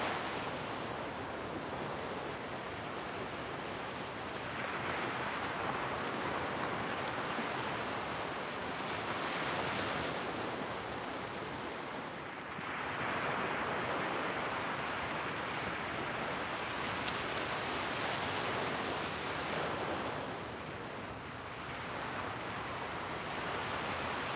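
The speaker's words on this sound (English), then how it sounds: "Soak in the colors, the sounds of those beautiful waves, and set our intentions for the day." Ocean surf breaks steadily on the shore, with a continuous wash of waves that swells and recedes every few seconds, with some wind but no voices.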